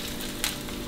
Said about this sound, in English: we're just shallow frying them